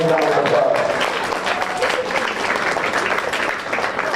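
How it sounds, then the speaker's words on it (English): Audience applause at the Dodge County Fair swine show ring, a sustained broad wash of clapping lasting the full stretch, with some voices and an announcer-like tone mixed in early on. "Let's give them all one more round of applause."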